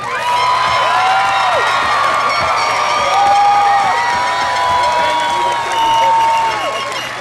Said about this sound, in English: will you join me once again in applauding the class of 2017?